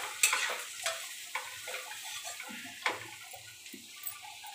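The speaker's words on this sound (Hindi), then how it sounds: "अब इसे धीरे धीरे चलाएंगे, थोड़ी देर इसे ऐसे ही भूनना है।" Green beans fry in oil with ajwain while a spoon stirs them slowly, giving soft scraping strokes and light clicks against the pan over a faint, quiet sizzle.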